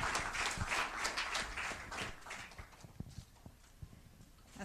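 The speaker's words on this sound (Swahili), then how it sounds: "Makofi mengi sana tunapomkaribisha afisa mtendaji mkuu." Applause from the audience welcoming the chief executive officer at an NMB Bank annual financial report event, soft clapping that thins and tapers off into scattered claps and quiet room ambience.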